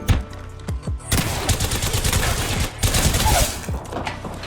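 Rapid bursts of gunfire from the Massif shotgun in the video game Apex Legends, a short volley followed by dense, loud repeated shots and explosions filling the rest of the moment.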